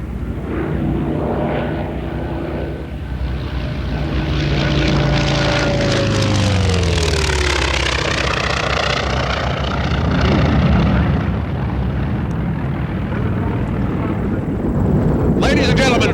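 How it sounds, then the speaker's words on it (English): World War II warplanes, an FM-2 Wildcat and a Japanese Zero, fly at an airshow with a loud sustained propeller engine drone that swells and shifts pitch as they pass, with a public-address announcer speaking over it. "flying the FM-2, the leader of Warplanes International, Dick Foote."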